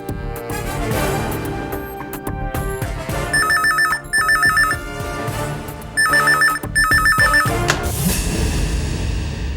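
A phone's electronic ringtone repeats loudly in a Tamil TV serial scene, with its warbling pattern sounding in bursts over background music.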